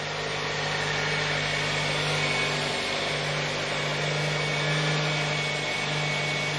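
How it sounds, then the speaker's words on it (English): The engine of a 2004 Toyota Matrix runs at a constant idle, a steady even drone with no changes in pitch or speed throughout. "The car is running, engine is on, no more daytime running light."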